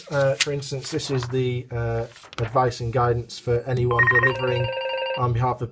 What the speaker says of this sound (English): That's the phone line going now.